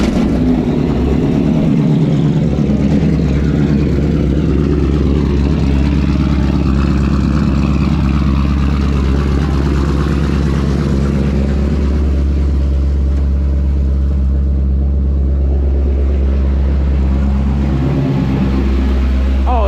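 A Honda CRX fitted with a K24 engine rumbles with a deep, steady drone, revs swelling and easing throughout from up close.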